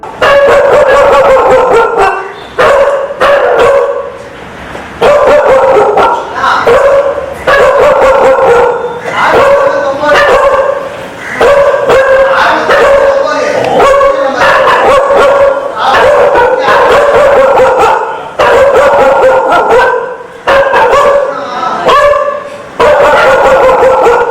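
Banned Rottweiler dogs, which attacked an auto driver, bark, yelp and whine loudly and almost without pause in dense, overlapping volleys, very close and dominating throughout.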